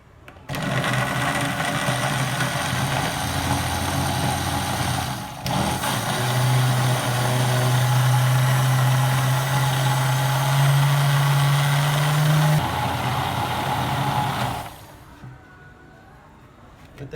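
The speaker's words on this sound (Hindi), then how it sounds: "अब हम इसको अच्छी तरह ब्लेंड कर लेंगे।" Blender whirs loudly as it blends eggless mango cake batter with ghee, running steadily with a brief dip, a rising strained pitch in the middle, then cutting off near the end.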